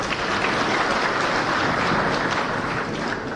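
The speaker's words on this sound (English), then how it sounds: "So give me a clap for that." A seated audience claps in support of a speaker, a thick, continuous roar of applause that holds at full volume for the whole stretch with no talking over it.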